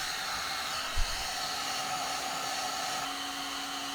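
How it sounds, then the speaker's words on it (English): A heat gun blows a steady, even rush of hot air while vinyl is applied to a gun, continuous and fairly close with one brief low thump near the start, no talking. "Heat gun."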